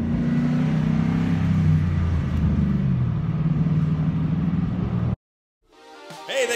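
A Ford Mustang muscle car cruising on the road, its engine a steady close rumble that cuts off abruptly near the end.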